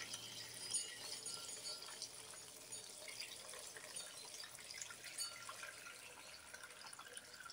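Brine pours and trickles quietly in a steady stream over bagged cabbage, with faint splashing and dripping against the plastic bags, no voices.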